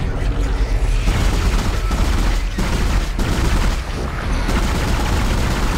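Gunfire from shooting a monster in the survival horror game Dead Space, a loud continuous barrage of shots and impacts with booming bursts, dense and close throughout.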